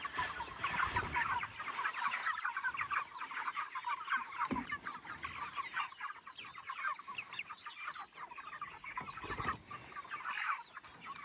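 Pasture-raised broiler chickens cluck and chatter continuously as a flock, many overlapping soft calls with occasional louder squawks, moderately close and steady throughout without any talking.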